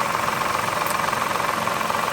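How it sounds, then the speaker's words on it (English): A Mazda 6 with a 3.0-litre six-cylinder engine idles steadily, a continuous close mechanical drone with a faint rapid ticking or knocking that could come from a bad lifter or timing chain. "Someone know what's wrong with this engine?"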